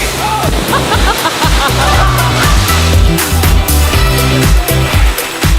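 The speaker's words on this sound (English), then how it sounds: "This is an indoor water park." Rushing, splashing water fills an indoor water park, a loud and continuous wash of sound with a faint background voice and echoing tones mixed in.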